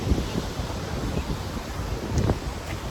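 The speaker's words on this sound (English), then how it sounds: "you guys can look at the ocean for a little while" Ocean waves wash in under gusting wind that buffets the microphone, with soft surges of surf rising and falling in a continuous outdoor rush.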